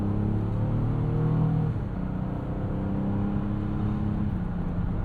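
A 2025 Honda Odyssey minivan with a 10-speed automatic drives along, a steady low engine and road hum with a smooth drop in pitch as a gear changes early on, then continuing even cabin drone.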